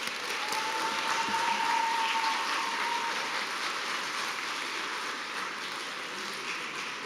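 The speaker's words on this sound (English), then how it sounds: "Please join me in giving these nice young folks a nice round of applause." Audience at a Valley View CUSD 365u school board meeting applauds students, a steady, dense wash of clapping that holds evenly for about seven seconds before easing slightly.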